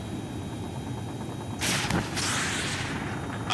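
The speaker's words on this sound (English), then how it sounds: "We're taking fire from multiple enemy tanks!" Heavy gunfire from enemy tanks in the Ace Combat 7 air-combat game: a dense burst of blasts and rumbling shots erupts midway and carries on loud to the end, over a steady low background din.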